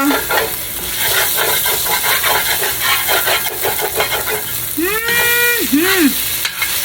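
Smoked turkey lo mein sizzles and crackles in the bottom of a hot pot, a steady frying hiss broken by repeated scraping stirs, loud and close, with a brief tonal squeal near the end.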